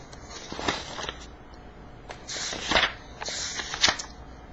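A stack of cue cards in a notebook flipped through by hand, a few separate bursts of papery riffling and flicking, close and moderately quiet, with no talking.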